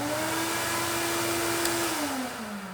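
Shop vacuum serving as a dust collector, run through an Ortis vacuum switch, a loud, steady close whine that holds one pitch and then shifts as the motor changes speed, with no talk.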